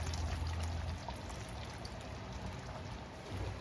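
Water pours steadily into a pot of simmering pork caldereta, a soft, continuous splashing stream that lasts a few seconds.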